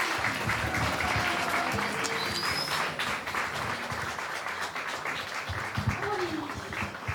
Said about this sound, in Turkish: Alkış, alkış, alkış.